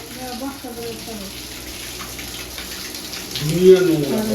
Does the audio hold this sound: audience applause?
no